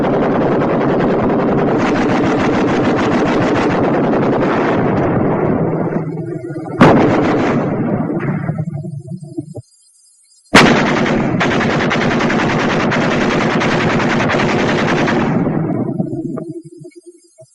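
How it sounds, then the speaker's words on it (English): Heavy sustained bursts of .30 caliber machine gun fire from World War II US infantry weapons, loud and close, with a brief pause midway before another long burst that tapers off at the end. "when it's pouring out of a machine gun, light or heavy, it can make a man look like a sieve in a matter of seconds"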